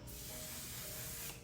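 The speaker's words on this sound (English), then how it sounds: "Use a setting spray because otherwise all your hard work is just going to melt away." A steady, close hiss of an aerosol setting spray runs continuously for over a second, then cuts off abruptly.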